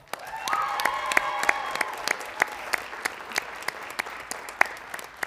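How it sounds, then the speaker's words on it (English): A school board meeting audience applauds the cheerleaders, a dense burst of clapping with some crowd noise that holds steady for several seconds, no voices. "let's cheer for our cheerleaders"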